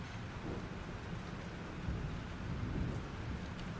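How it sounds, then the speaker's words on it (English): Heavy rain pours steadily in a thunderstorm from the video game Life Is Strange, a dense continuous roar with low thunder rumbling underneath and swelling in the second half. "This storm is real."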